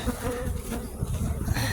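Bees swarm close around a hive in a dense, continuous buzz with fluctuating pitch as individual insects pass near, with no talking.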